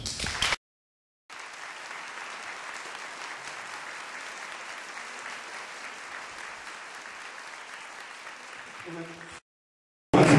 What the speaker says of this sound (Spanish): Y quisiera que ustedes terminen esa bienvenida con un gran aplauso.